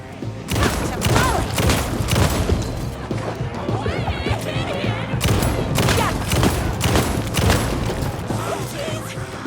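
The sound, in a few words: gunfire in video game Alan Wake 2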